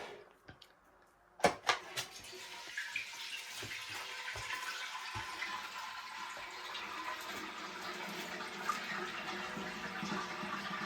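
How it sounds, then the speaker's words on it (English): A hydrophore water pump starts up after a few sharp clicks and knocks, then settles into a steady rushing hiss of water filling the pressure tank, continuous and fairly close, with no talk. "And now we start the pump."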